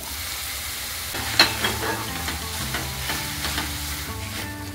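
Capsicum and tomato are sautéed in a pan for veg Maggi, with close, steady sizzling and frying and repeated stirring scrapes and taps of a spoon against the pan.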